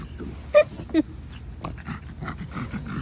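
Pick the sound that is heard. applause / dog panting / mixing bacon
dog panting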